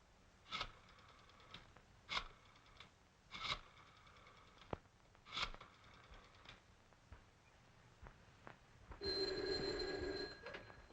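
An old-fashioned telephone bell rings in a 1938 detective film, faint and recorded in a slightly muffled way, sounding in several short bursts spaced about 1.5 seconds apart, with a longer steady ring near the end.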